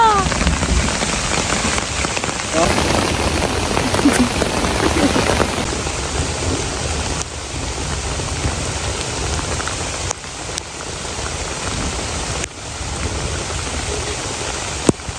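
Loud pouring rain drums on a surface, a thick, continuous roar that shifts in texture a few times.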